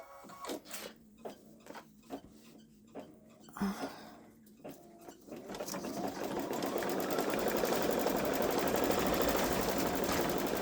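A Babylock Solaris embroidery machine stitching out designs, with a few short starts and stops before settling into a steady, fast, continuous rattling hum close by.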